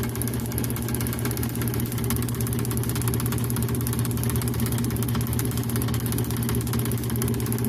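Oliver 70 tractor engine idling steadily at about 500 RPM with its magneto under test, a loud, continuous low rumble close by with a regular firing pulse throughout and no talk.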